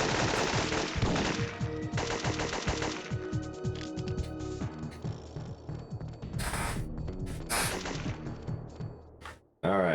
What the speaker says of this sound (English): So I'm just gonna shoot